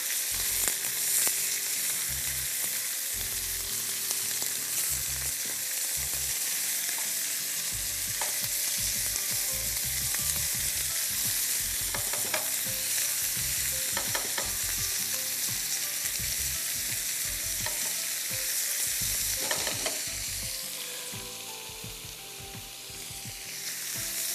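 Minced meat fries with onion and garlic in a pan, a dense, continuous sizzle close by, with scraping as the meat is broken up and stirred throughout.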